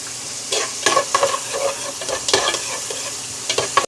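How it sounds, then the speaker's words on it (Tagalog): Onion and ground beef fry for yakisoba in a pan, with repeated scraping stirs over a steady close sizzle and no talking. "Nilagay tayo ng sibuyas,"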